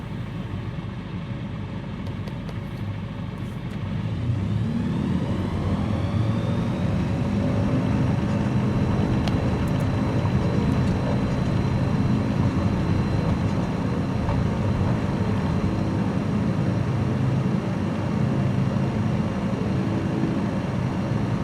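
A small airplane's engine rises in steady power for takeoff, a loud continuous drone with a low rumble and a faint whine that holds constant throughout, heard from inside the cockpit.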